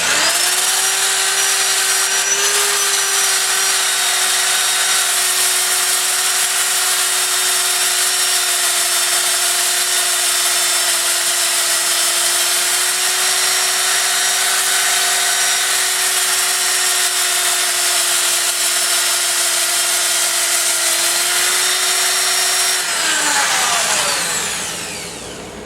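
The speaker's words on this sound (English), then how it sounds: "Power sanded off some marks, cleaned up some things" A power sander runs steadily on a wooden platter, a loud continuous whine with a constant pitch for more than twenty seconds before it winds down at the end.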